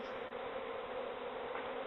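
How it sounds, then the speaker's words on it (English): A swarm of honeybees whirls in a circle, giving a steady, unbroken buzzing drone that stays faint and even throughout. "here comes a big sound, a buzzing sound, a cyclone of bees just whipping around in a circle"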